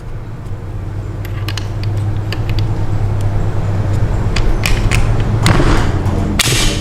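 Bolt of an HDM 1050 Protector being pushed forward into the lower receiver, a series of close, small metallic clicks and scrapes ending in a sharper burst of mechanical noise, with no talking.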